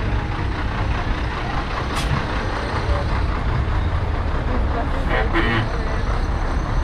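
Decorated buses rumble through a street in Antigua, Guatemala, a steady heavy engine drone with a couple of brief hissing bursts like air brakes or horns, voices faintly mixed in with the traffic.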